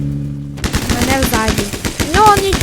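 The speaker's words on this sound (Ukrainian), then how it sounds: "Ай-яй-яй, по мені стріляють." Rapid gunfire in a Roblox shootout crackles in dense bursts, loud and close, after a brief quieter start, with a voice speaking over part of it.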